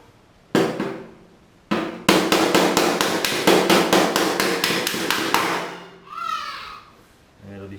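A body hammer and dolly work dents out of the metal of a 1968 Firebird. Two separate ringing strikes are followed by a steady run of about a dozen rhythmic metallic blows. A brief voice is heard at the end.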